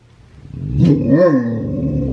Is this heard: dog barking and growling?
yes